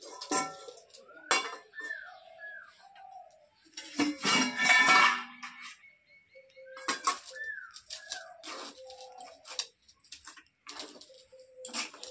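A metal lid comes off a cooking pot during sweet-making, giving scattered clanks and clinks of metal cookware, with thin squeaky tones between the knocks in a quiet kitchen.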